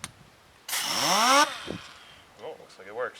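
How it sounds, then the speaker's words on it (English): A big bore air compressor drives a pneumatic tool through a hose, a loud burst of rising whine and hiss lasting under a second, then dropping away, followed by brief speech. "I got my big bore air compressor on the other end of this hose."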